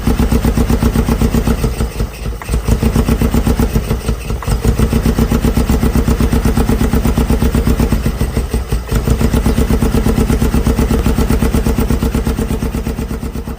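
A misfiring 1980 supercar engine runs steadily and roughly, with cylinders not firing, its rapid pulsing uneven with occasional stumbles and dips, loud and close, with no talking.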